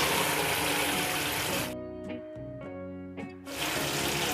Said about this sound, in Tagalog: Dagdagan natin ang tubig.